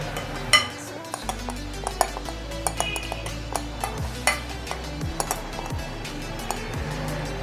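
A metal pot lid is lifted and leftover spice mix is added to a Lahori chicken roast, bringing scattered clinks, taps and scraping utensil knocks over a low steady cooking hum.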